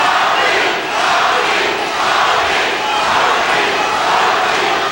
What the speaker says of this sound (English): The crowd chanting for Tommy Hearns.